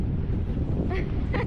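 Sailboat under sail in the wind bound for Treasure Cay in the Abacos, a steady rush of wind and water with a couple of brief gusty bursts.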